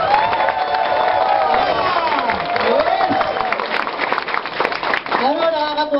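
A large audience at an AIM Global corporate event applauds and cheers loudly and without a break, with whoops and shouting voices riding over the clapping.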